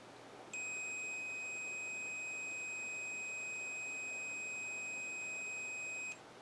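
A quadcopter ESC emits one continuous high electronic beep lasting about five and a half seconds when its middle cable is touched, steady and fairly quiet over a low background hum, with no talking.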